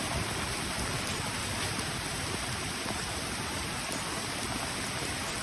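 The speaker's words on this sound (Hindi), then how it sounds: "ये देखिए बहुत ही ज़बरदस्त बारिश हो रही है।" Heavy rain falls in a steady, dense hiss, a constant loud wash of drops hitting surfaces with no break and no voices.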